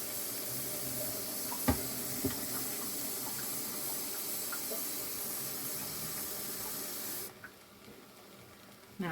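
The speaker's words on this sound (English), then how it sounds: "Now I've got to add the water." Water from a tap pours steadily into a pot of black-eyed peas with a ham hock, a continuous close hissing rush with a few small clinks, stopping abruptly near the end.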